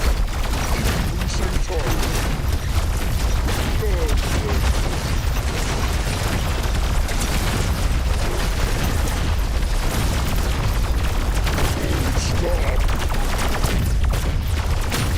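Battle Aces strategy game combat as a resource base comes under attack: dense, continuous loud explosions and rattling gunfire with booming impacts, relentless from start to finish, with faint voice lines mixed in.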